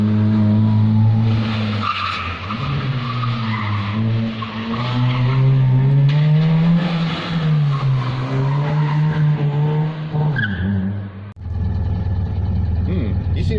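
A Citroen 2CV driven hard around an autosolo course, its small engine straining loudly and continuously with rising and falling revs, a brief lift near the end before it pulls hard again.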